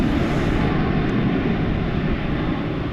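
A Boeing 787 airliner passes over DFW International Airport, its engines a loud, steady broadband roar that holds unbroken throughout, with no voices.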